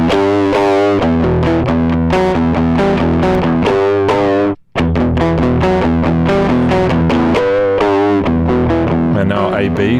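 Scream distortion effect with its drive low pass turned down, processing a loud, continuous melodic synth line with dense harmonic grit, darker in tone, broken by one brief silent gap midway.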